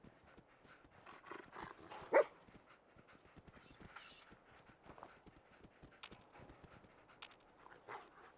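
Dogmeat, the dog companion in Fallout 4, moves around in-game with faint pattering footsteps, soft yips and whimpers over a quiet, busy game background.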